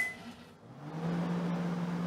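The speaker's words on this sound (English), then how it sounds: "Microwave sequence." A microwave oven gives a brief electronic beep, then settles into a low, steady running hum that grows slightly louder and continues alone.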